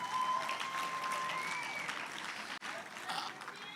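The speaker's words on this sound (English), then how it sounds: "Give her a round of applause." Steady applause from a conference audience fills the room, dense and sustained with a faint tone running underneath, briefly dipping near the end before picking back up.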